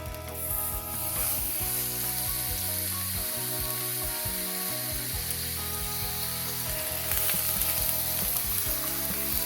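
Tilapia fillets fry in a piping hot pan, a loud continuous sizzle close up with shifting tonal hums underneath, swelling slightly near the end, with no talking.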